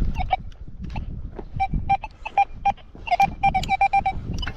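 A metal detector sounds repeated short electronic beeps while searching for coins in a medieval Polish village field, the tones coming in quick irregular bursts over rustling and handling noise close to the microphone.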